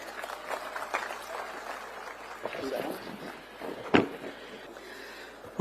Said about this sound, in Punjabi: ਪਲੀਜ਼ ਜ਼ੋਰਦਾਰ ਤਾੜੀਆਂ ਕਰਮਜੀਤ ਵਾਸਤੇ